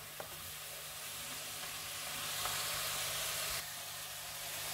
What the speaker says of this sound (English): we just want to give it a bit of steam to help soften those peppers